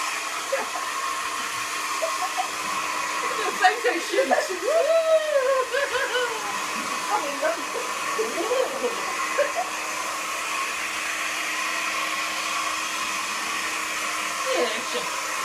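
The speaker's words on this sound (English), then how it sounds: "Do you want me to just dry that off quick whiz with a hairdryer" A hair dryer blows a steady, close whooshing hum while drying paint on a faux marble finish, with people talking and laughing quietly under it.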